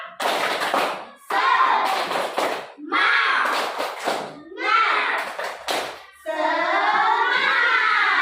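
Schoolchildren in a classroom do a rhythmic spirit clap, sharp bursts of clapping hands in short patterned groups with brief pauses, mixed with children's voices.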